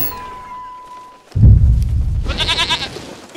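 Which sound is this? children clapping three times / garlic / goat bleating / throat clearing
goat bleating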